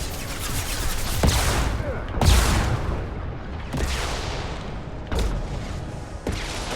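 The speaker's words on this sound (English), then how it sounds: "Firing a high-impact shot!" High-impact gunshots in Mass Effect 2, heard as five heavy booming shots spaced about a second apart, each a sharp crack with a rolling tail, loud and close.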